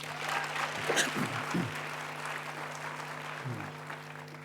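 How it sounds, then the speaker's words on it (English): An audience at a university graduation ceremony applauds a choir, a steady, moderately distant patter of many hands with brief voices rising early and a low sustained tone beneath. "Let's give them a round of applause."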